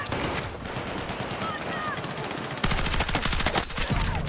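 Burst-fire weapon in Battlefield 6, with rapid, evenly spaced shots that start midway and ring out loudly and close over dense game noise.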